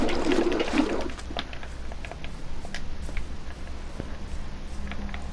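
Water poured from buckets into a pool in Minecraft, a rushing, splashing gush that is strongest at first and then settles into a softer trickle, with no voices.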